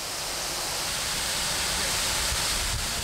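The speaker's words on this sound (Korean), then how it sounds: "시원스러운 물줄기를 뿜어내는 복내폭포" Bongnae Falls on Ulleungdo, below Seonginbong peak, drops 25 m in three tiers. Its water makes a steady, dense, full-bodied roar, close and unbroken throughout.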